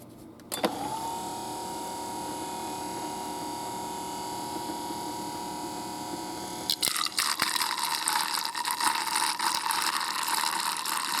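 A water structuring device with a mineralizer starts up with a click and a steady motor whine, then shifts to a louder, busier churning whir with a sloshing, mechanical texture, close by.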